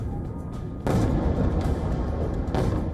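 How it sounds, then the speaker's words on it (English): Explosions from a Russian missile and drone attack on Kyiv at night: broad booming blasts, one loud onset near the start and another later, over a continuous rumbling low background with no voices. "A series of explosions ring out."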